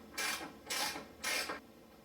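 Three even ratcheting strokes from a socket ratchet tightening a T45 bolt on a KTM 300 XC dirt bike, close but faint, with no talk.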